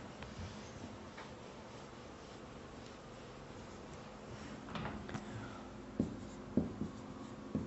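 Pen or pencil writing numbers on paper while working a math exponent problem, a close, faint, continuous scratching with a few sharper taps and strokes near the end and no voices.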